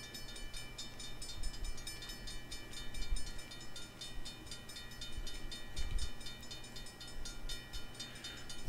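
A faint video game train rumbles along with a steady rhythmic clatter, distant and continuous, with no voices.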